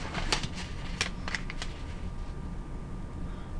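Origami paper rustles and crinkles in a few quick, close creases and swishes as it is folded, then settles into faint handling noise; no talking.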